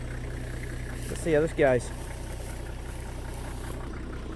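A farm engine idling steadily after being started, a low continuous rumble throughout, with someone speaking briefly over it.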